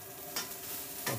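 Cubes of steak sizzle in a hot frying pan while being turned and seared, a steady hiss of frying broken by two sharp scraping stirs, close and without speech.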